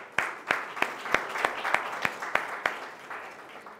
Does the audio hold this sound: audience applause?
yes